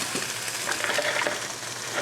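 A spatula works sandwich filling of tuna on a hot grill, giving a steady, close sizzle of frying with light scraping and stirring. No voices are heard.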